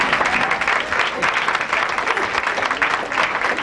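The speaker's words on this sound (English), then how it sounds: "Please give Al Greer a round of applause." A room full of people clapping steadily, a continuous wash of applause with no voices over it.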